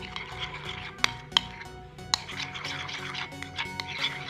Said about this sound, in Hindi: अब हम लोग अपना ग्लू मिक्सचर के अंदर धीरे धीरे करके इसको डालेंगे और मिक्स करते जाएंगे